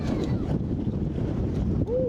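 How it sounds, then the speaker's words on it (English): A strong gust of wind buffets the microphone outdoors at a homestead, a loud continuous roar of rumbling wind noise filling the whole moment. "ooh, a nice big gust just hit right now of wind"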